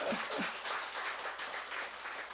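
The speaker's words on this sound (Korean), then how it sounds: "박수 한번 치세요" A church congregation claps together during a sermon, a fairly soft, steady patter of many hands after a short voice at the start.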